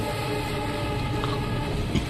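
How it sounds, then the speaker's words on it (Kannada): A passenger express train rumbles steadily past on the Hassan–Arasikere line, a continuous heavy rolling roar with faint rhythmic rattling throughout. "ಇನ್ನೊಂದು ಟ್ರೈನ್ ಬರ್ತಿದೆ"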